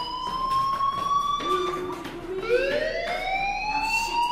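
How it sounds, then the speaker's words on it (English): A fire alarm rings in the video game Life is Strange: a loud, steady electronic siren tone that wavers and sweeps upward in pitch, sounding throughout with no talk over it. "Hey, do you hear that fire alarm?"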